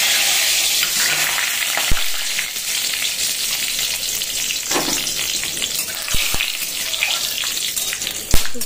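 Loud, close sizzling of whole spices, including nutmeg and cubeb, hitting hot oil, a dense steady crackle with a few sharp clicks from utensils and no voices.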